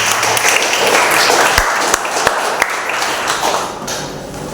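A church congregation at a Sunday service clapping loudly in a sustained burst, close and full, with a few sharp knocks standing out from the applause.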